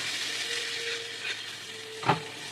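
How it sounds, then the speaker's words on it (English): Steady sizzling of ribeye steak searing in a hot pan, a continuous hiss with a brief clatter near the end. "Hit it again. Bam! Big fucking sizzle."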